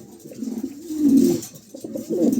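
A pair of Beauty pigeons in a loft coo close by, with low, throaty, rolling calls swelling and fading in repeated phrases and no talk over them.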